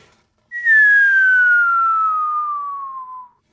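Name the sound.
descending whistle without a tube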